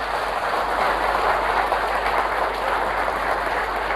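An audience at a live product demonstration applauding, a continuous broadband wash of many hands clapping together, steady and loud throughout with no voices over it.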